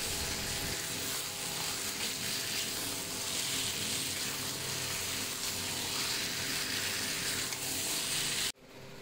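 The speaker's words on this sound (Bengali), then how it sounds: "এরপর আলুটা দিয়ে 1 মিনিট নেড়ে আমি জলটা দিয়ে দেবো" Potatoes frying and being stirred in a pan for a curry make a dense, continuous sizzle that stays steady and close for several seconds before it cuts off abruptly at the end, with no voices.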